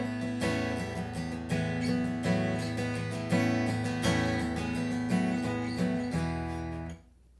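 Layered guitars play out the end of a song's chorus, strummed chords pulsing in a steady rhythm at moderate volume before cutting off abruptly into silence, with no voice.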